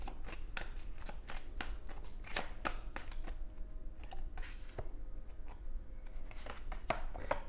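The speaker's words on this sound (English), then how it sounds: "We get 2 more cards, please." Tarot cards are shuffled and drawn, producing a quick run of crisp flicks and slaps in an uneven rhythm, close and fairly quiet with no talk.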